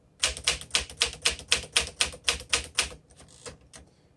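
A 1957 Smith Corona Super Silent manual typewriter types in a steady run of about a dozen crisp, evenly spaced keystrokes, close and clear, before slowing to a few softer taps and a faint mechanical shuffle.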